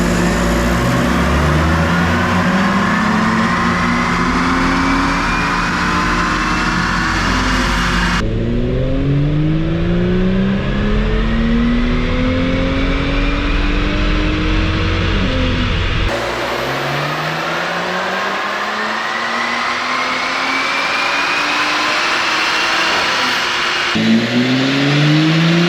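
Audi B9 S4 with a Stage 1 tune on 91 octane roars through repeated dyno pulls, the engine note climbing steadily in pitch through each gear, loud and close, with brief drops as it shifts and winds back down.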